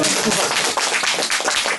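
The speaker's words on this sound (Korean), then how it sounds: "박수 쳐주세요" Applause from a lecture-hall audience at a Korean photo-journalism talk, a dense, steady patter of many hands clapping close and loud, with a voice mixed in.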